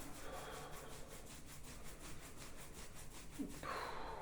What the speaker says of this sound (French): je frotte sous les clavicules, mais horizontalement, jusqu'au creux de l'épaule